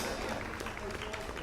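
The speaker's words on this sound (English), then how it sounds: "I want everybody to give Peter Levine a big round of applause" A concert audience applauds for organiser Peter Levine in a dense, steady patter of clapping with crowd murmur mixed in, loud and close throughout the brief span.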